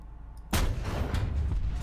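A ZBD-04A vehicle in War Thunder fires its rocket: after a quiet moment, one sharp, loud launch blast hits, followed by a rumbling, lingering roar.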